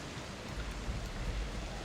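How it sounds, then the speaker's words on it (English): Steady rain ambience from a tabletop sound app plays at low volume, a continuous soft hiss with no distinct drops or thunder. "No, that's just rain."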